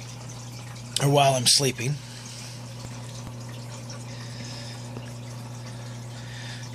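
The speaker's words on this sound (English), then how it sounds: "I've kind of gotten accustomed to having that trickling sound, that watering sound in my bed" A faint, steady trickle of water runs in a goldfish tank with a low water level, a constant low hum beneath it, while a voice briefly speaks over it.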